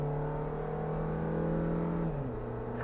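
A Suzuki Jimny 5-door with a 4-speed automatic accelerates from inside the cabin, its engine drone steady and strained, then the pitch drops near the end as the gearbox shifts, with no talking.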